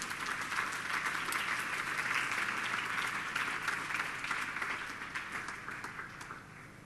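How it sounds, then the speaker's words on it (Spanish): A church congregation claps for Jesus during a Spanish-language sermon, a full, steady round of many hands that gradually thins and softens toward the end. "Aplaude a Jesús."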